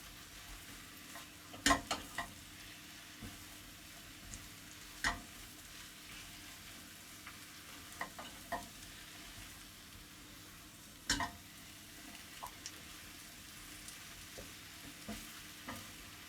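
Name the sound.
mushrooms frying in a pan until browned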